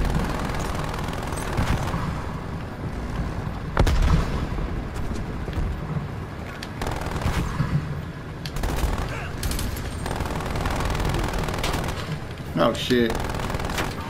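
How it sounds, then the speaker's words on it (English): A turret gun in Call of Duty Black Ops Cold War fires rapid bursts amid constant loud gunfire, the rattling shots running throughout, with a player briefly speaking over the din. "Is that their turret gun?"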